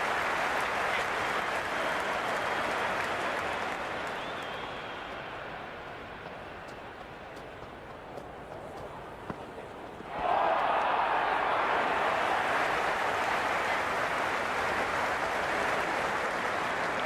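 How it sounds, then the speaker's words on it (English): A crowd in the video game Cricket 26 keeps up a steady broad roar of applause and cheering. It dips slightly partway through, then swells sharply louder and holds, with no clear talk over it. "There's an almost tangible fervour throughout the crowd at the moment."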